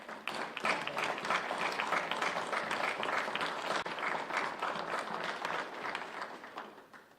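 Fairly quiet, continuous applause ripples through the room at a county board of supervisors meeting, a soft, rustling wash of many hands clapping for several seconds before fading out.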